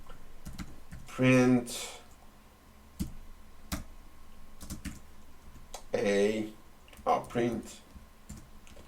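Sparse keystroke clicks from a computer keyboard while Python code is being entered, with short bursts of someone talking over the tapping.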